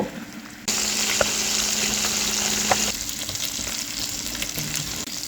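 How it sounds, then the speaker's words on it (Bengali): Pieces of bata fish are laid into hot oil in a pan and turned, setting off an abrupt loud, close sizzle with light clinks that eases into a softer steady frying hiss. "মাছগুলোকে এপিট উপিট করে সুন্দরভাবে ভেজে নেব"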